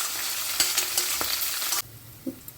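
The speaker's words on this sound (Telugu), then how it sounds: "కరివేపాకు, పచ్చిమిరపకాయలు, ఎండుమిరపకాయలు వేసి మరొకసారి అన్నీ కలిసేటట్టు బాగా కలుపుకోవాలండి" Curry leaves, green chillies, dried red chillies and garlic fry in hot oil in a pan for avakaya pulihora, a loud close sizzle broken by spatula stirring scrapes before the frying noise abruptly drops away.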